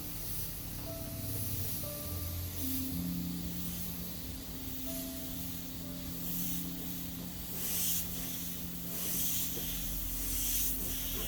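A Badger Patriot 105 airbrush sprays during a test, giving a soft, steady airy hiss that runs continuously at low volume with faint background hum.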